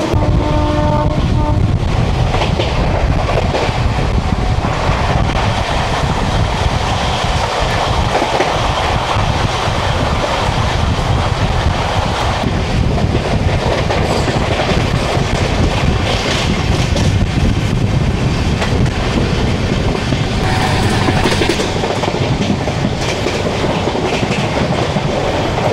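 The Netaji Kalka Mail from Howrah runs at speed, around 128 km/h, as a loud continuous rumble with rhythmic clickety-clack of the wheels and gusts of wind noise throughout.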